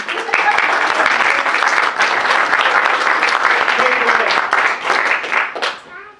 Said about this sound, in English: why don't you give a round of applause to Dr. Blue and Scientist David.